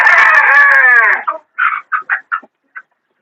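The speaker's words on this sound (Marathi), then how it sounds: "ही पण जी आहे ती अंड्याला आलेली आहे कोंबडी, ही सफेद कलरची" A white desi laying hen that has started laying gives a long, loud drawn-out cackle, followed by several short, sharp clucks spaced out and fading, close by with no talk.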